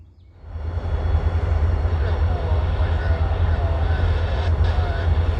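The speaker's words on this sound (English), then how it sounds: "Here we see one of CSX's jet-powered snowblowers." A CSX jet-powered railway snowblower roars up after a brief quiet start, settling into a loud, steady jet rumble with a deep low drone that continues unbroken.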